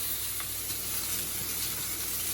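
Sous vide chicken thighs sear in a hot pan, giving a steady, close hiss of sizzling fat that runs without a break and has no talk over it.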